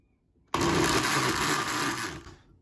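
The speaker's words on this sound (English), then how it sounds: "So my blender has a bunch of settings, but I'm going to choose smoothie just to kind of blend it up a bit." A kitchen blender running on its smoothie setting whirs a toasted marshmallow milkshake, starting abruptly and holding a steady, loud, close motor roar for about two seconds before winding down.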